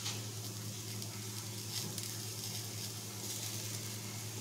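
Chopped tomatoes go into a frying pan already holding onions and capsicum, with a steady soft sizzle and patter of frying vegetables throughout, close and even, with no one speaking.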